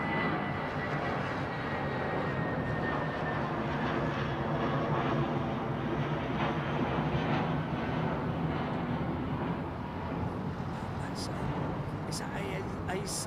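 An Airbus A350 being towed at an airport gives a steady, broad engine and ground rumble that holds at an even level throughout, with faint voices underneath.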